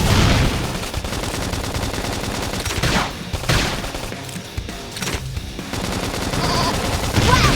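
Rapid bursts of gunfire rattle through a Xenoblade Chronicles X battle, loud and dense like a fusillade, with brief dips between volleys and crashing impacts mixed in, no voices over it.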